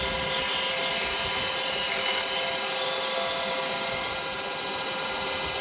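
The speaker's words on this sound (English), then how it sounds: "What I can do there is I can come in with my detail chisel" A wood lathe spins a Christmas ornament as a detail chisel cuts it, producing a loud, steady motor whine with a constant tonal hum.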